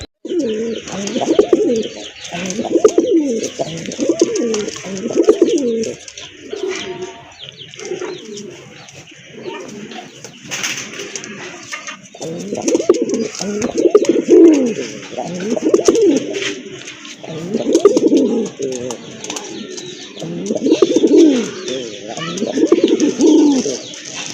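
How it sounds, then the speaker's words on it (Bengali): Large pigeons of breeds such as Madrasi gulla coo repeatedly at a pigeon sale in low, throaty bursts, close by, with a steady hiss and faint chirps in the background. "এখানে কিন্তু দুইটা কবুতর রয়েছে"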